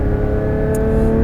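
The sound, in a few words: Porsche 911 GT3 RS engine accelerating on Nogaro circuit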